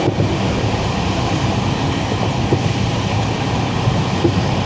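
A Jan Shatabdi Express with new LHB coaches, running between Kuttippuram station and the Bharathapuzha river, gives a steady, continuous rumble of wheels on rail heard from inside, with faint clicks and no voices.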